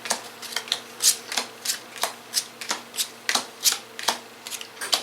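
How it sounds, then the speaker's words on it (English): A deck of game cards is shuffled by hand for a board game night, a rapid run of crisp riffling bursts repeating in quick irregular rhythm, close and clear with no talk. "So we shuffle the deck"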